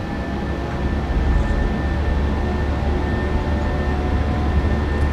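Engines of a PMDG 737-800 in a flight simulator spooling up to takeoff power, a loud steady low roar with a faint high whine running through it.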